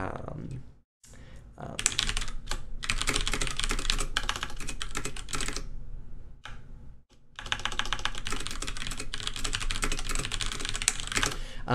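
Rapid typing on a computer keyboard runs in dense bursts of close clicking, with a few short pauses, heard alone without talk.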